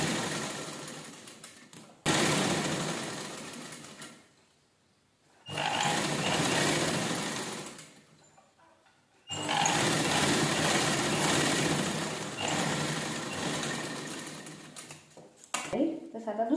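A sewing machine stitches leftover blouse fabric pieces together into a table cover, its whirring motor running in several long bursts separated by short quiet pauses.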